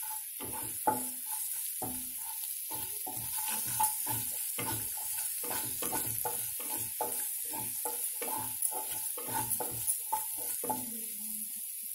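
Raw fish curry being mixed with salt and chilli powder by hand gives repeated soft, wet squelching and rustling pulses in an uneven rhythm, close and fairly quiet, with no speech.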